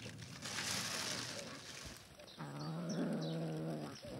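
Cats meow near a fisherman who is feeding them, several drawn-out cries rising out of a slushy, shuffling background, with a human voice murmuring between them.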